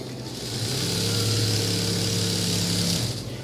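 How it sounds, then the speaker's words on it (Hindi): Electric sewing machine stitching a seam on a ladies' trouser leg, a steady motor whir with buzzing needle drive running continuously for about three seconds, close and fairly loud, with no talk. "इस तरीके आपने सिलाई लगाते जाना है इसकी।"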